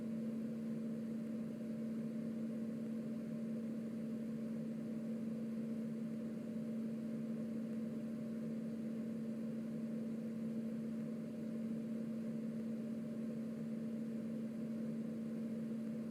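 Roblox A320 jet engines on a steady throttle-up, a constant loud low hum with a strong tonal drone and broadband rush holding evenly throughout, no voices.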